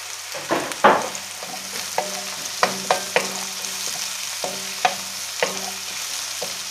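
Bell pepper and shrimp being stirred in a frying pan, with a steady low sizzle broken by a series of sharp clacks and scrapes from the utensil against the pan at irregular intervals.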